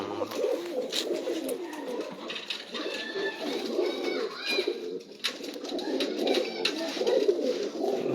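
Sialkoti pigeons coo in low, rolling murmurs that overlap steadily and close by, with a faint bird chirp or two and bursts of broadband noise scattered through.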